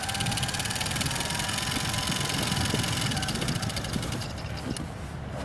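An engine runs steadily, producing a loud, continuous rumble with a gritty mechanical texture that eases slightly toward the end.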